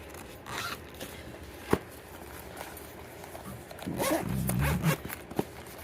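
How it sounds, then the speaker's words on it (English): A plastic zipper on a faux leather carrying case for an R36S handheld game console, pulled in a few short rasping runs close by, with a louder zip near the end. "The zipper's really nice too."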